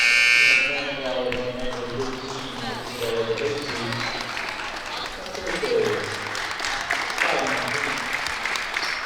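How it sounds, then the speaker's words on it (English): Crowd applause at a girls' high school basketball game as two freshmen players leave the court, a steady clapping wash lasting throughout with a buzzer-like tone at the start and talk running over it. "Nice recognition by the crowd for the 2 freshmen and Ida that just came out."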